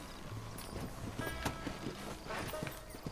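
Horse hooves clip-clopping on the ground in Red Dead Redemption, a steady walking rhythm of close, distinct hoofbeats over continuous outdoor game ambience.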